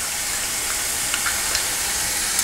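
Crushed garlic and ginger with onion sautéing in a pan for a Kerala-style spicy beef curry, giving a steady, close sizzle and frying hiss with faint stirring ticks and no voices.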